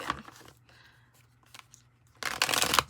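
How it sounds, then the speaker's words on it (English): A deck of cards riffled in a couple of quick shuffles, crisp papery bursts with a louder flurry at the end, close by. "let's get 2 more shuffles in"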